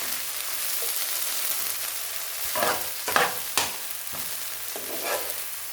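Rice with green beans fries in a hot pan with a steady hiss, then a spatula stirs and tosses it in a few scraping, clattering bursts, close and clear, no speech.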